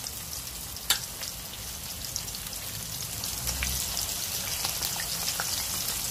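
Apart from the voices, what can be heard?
salmon fish frying in oil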